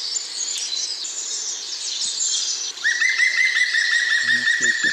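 A green woodpecker gives its laughing call in woodland, a rapid series of repeated ringing notes. The call comes in after a stretch of other bird chatter, with a couple of faint low knocks near the end.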